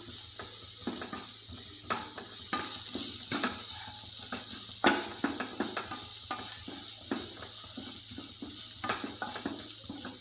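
Chili powder is stirred into egg burji masala in a hot pan: repeated spoon scrapes and taps in an uneven rhythm over a constant close sizzle of frying.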